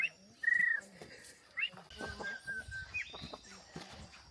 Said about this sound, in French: il y a donc les 3 oiseaux sur la droite